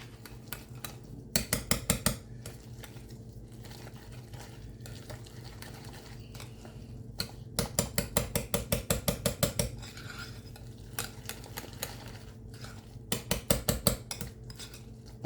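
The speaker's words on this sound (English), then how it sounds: "I use my whisk because I think I just get a better," A whisk beating deviled egg filling of mashed yolks and sweet relish in a bowl, heard as bursts of rapid, rhythmic clicking and scraping against the bowl, several quick runs separated by short pauses, close and fairly quiet.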